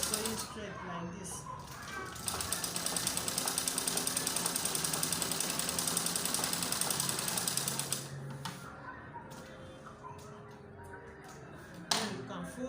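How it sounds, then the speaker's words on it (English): A treadle-pedalled sewing machine stitches fabric in a rapid, even mechanical rattle that runs for several seconds and then stops, with quieter handling and clicks around it. "Make sure you're sewing straight like this."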